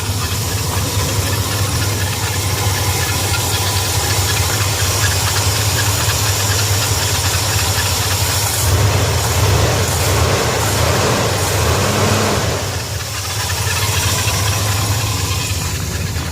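A cold 1976 Ford F250 with a 460 V8 idles steadily with a low, even rumble and a faint knocking tick, plus a hiss, close and continuous throughout with no talk.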